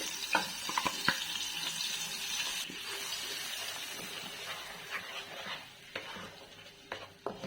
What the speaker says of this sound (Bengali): দারচিনি এলাচ এবং গোলমরিচ দিয়ে এক মিনিট ভেজে নেব এরপরে মশলাটা দিয়ে সেটাকে দু মিনিট মতন হাই ফ্লেমে কষিয়ে নেব